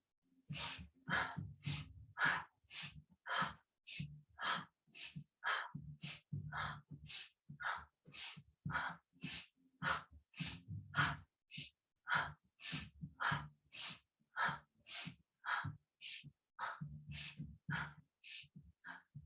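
Rhythmic, energetic breathing during a yoga twist: a long run of forceful, evenly paced breaths, each a sharp broadband burst, close and loud with no talk over them.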